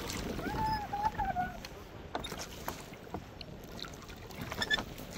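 Water sloshing and dripping around a kayak being paddled on a lake in a high mountain valley, Vall de Núria, with soft splashes, light breeze, and a voice talking at times.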